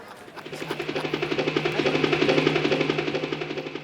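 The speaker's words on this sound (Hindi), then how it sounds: "हेलीकॉप्टर की आवाज" A helicopter's rotor chops in a fast, steady rhythm, fairly close and growing slightly louder, with a low engine drone underneath.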